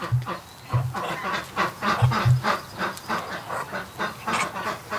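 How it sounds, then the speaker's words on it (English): A duck quacks in short, low, repeated bursts close by, a steady series of nasal calls with quiet gaps between them. "I can't believe the size of this duck."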